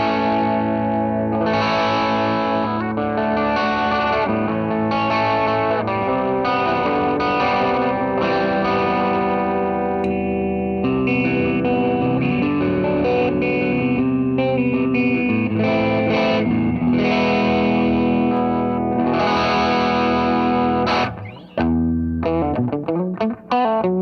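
A Squier Classic Vibe Late '50s Jazzmaster on its bridge pickup plays a loud, distorted, sustained riff with chords and ringing notes, close and alone, ending in a few choppy muted strums.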